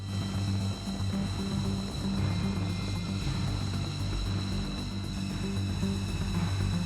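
A stealth aircraft's engines keep running during a crew change, a steady, loud droning roar with a sustained low hum that holds even throughout, alone without speech.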